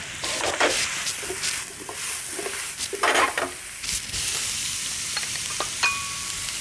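Steady crackling sizzle of onions frying in a pan, with occasional louder pops and brief utensil clinks, close by and continuous.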